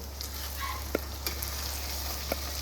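An egg and garlic mixture sizzles softly in a pan while being stirred slowly, a steady low frying hiss broken by a few light scrapes and clicks.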